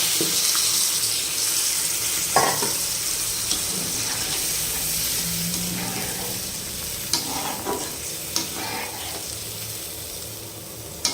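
A little water poured into a pan of puti fish curry, producing a loud rushing hiss with sizzling and a few sharp clinks and scrapes of a utensil, close and continuous, with no voices.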